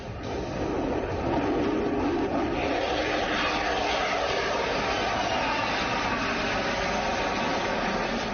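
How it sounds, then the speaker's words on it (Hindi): An American F-35 stealth fighter jet roars steadily overhead, a loud continuous broadband engine rumble sustained throughout with no talking. "दुनिया के सबसे एडवांस माने जाने वाले अमेरिकी फाइटर जेट्स F-35 स्टेल्थर फाइटर।"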